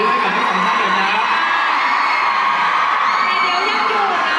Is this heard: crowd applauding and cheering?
yes